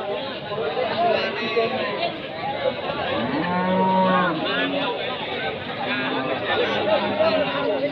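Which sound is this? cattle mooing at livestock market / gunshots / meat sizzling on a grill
cattle mooing at livestock market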